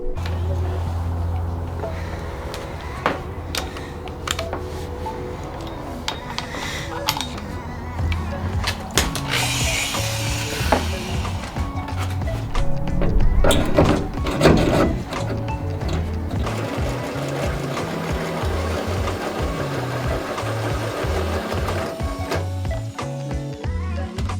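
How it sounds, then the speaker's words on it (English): A hole saw drills holes underneath the rear wing of a Nissan 240SX, a steady, loud whirring grind with rattling and shifting pitch that swells in the middle and runs throughout. "We're gonna be drilling underneath here to gain access to the bolts that go up into the wing."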